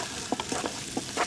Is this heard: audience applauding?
no